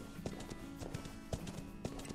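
Horse hooves clip-clop at a steady trot in the western video game Outlaws of the Old West, a regular rhythm of close, moderately loud hoofbeats over a constant ambient game background.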